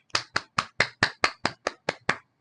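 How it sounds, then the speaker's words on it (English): Ten sharp hand claps at an even, steady rhythm, close and clear, with no talking. "Let me give myself a hand clap."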